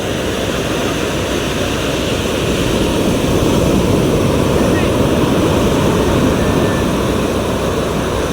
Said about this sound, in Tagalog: ay may alon na naman, may bagsak